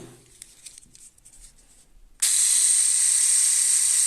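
A Parkside cordless engraving tool is switched on at its lowest speed after a few faint clicks, then runs as a steady, loud high-pitched whine held close to the listener.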